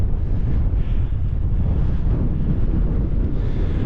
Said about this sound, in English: The wind's blowing now